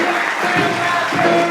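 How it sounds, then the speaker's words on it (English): Applause for a poet at a live performance, a steady broadband patter of clapping hands with crowd noise throughout. "Applause for Kevin O'Neill."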